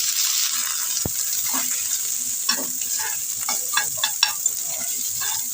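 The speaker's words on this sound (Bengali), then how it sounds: "আর একটুখানি সর্ষে বেশি দিয়ে ফোড়নটা দিয়ে দিচ্ছি নারকেল কোড়াটা দিয়ে দিচ্ছি" Mustard seeds, five-spice seeds and grated coconut sizzle in hot oil for a hog plum chutney, giving a close, steady frying hiss with scattered pops and stirring scrapes.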